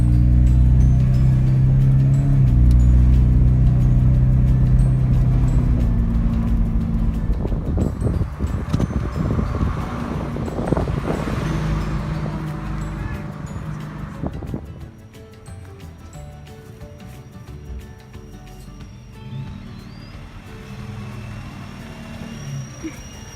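A 1970s Mazda RX-3 under restoration drives off, its engine and road rumble loud and steady at first, then fading lower with wind noise in the latter half.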